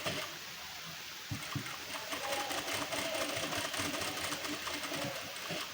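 A sewing machine runs steadily, stitching a folded hook strip onto a prince-cut blouse, a close, continuous whirring motor with a few brief starts and pauses.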